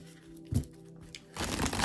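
A deck of tarot cards is shuffled in two bursts of riffling, one brief and one longer, against a quiet background.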